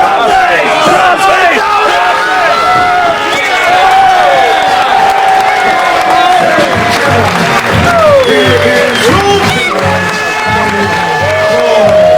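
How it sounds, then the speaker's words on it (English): A wrestling arena crowd roars with cheering and shouting, loud and sustained throughout, with scattered clapping in the mix. "The crowd erupts finally."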